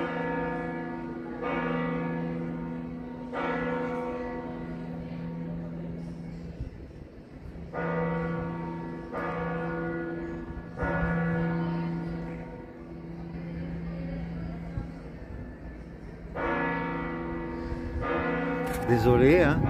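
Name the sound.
church bells ringing at Santiago de Compostela cathedral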